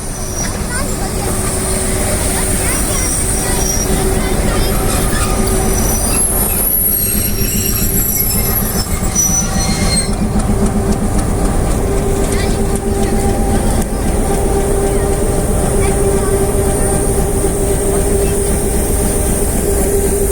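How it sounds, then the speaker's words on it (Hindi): Pakistan Railway train rolling into a village station and slowing to a stop, wheels squealing and carriages rumbling steadily close by for the whole stretch, with someone talking over the noise. "इस स्टेशन पे गाड़ी हमारे करीब आकर रुकने वाली है"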